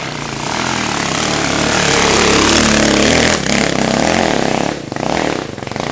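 A motorcycle engine under repair runs loudly and steadily close by, its drone holding near-constant with a brief dip and a rev change toward the end.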